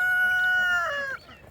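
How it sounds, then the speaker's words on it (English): An American Bresse rooster crows once on a farm, a clear, moderately close drawn-out crow that tails off, with faint background noise. "We've got these two American Bresse roosters that pretty much rule the roost here."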